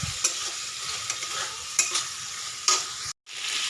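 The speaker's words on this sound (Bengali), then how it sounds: "একটু ভাজা হোক।" Spices being stirred and fried in a pan with the heat turned up for a Bengali recipe, giving a steady close sizzle broken by a few sharp scraping strokes of the spoon and one brief dropout near the end.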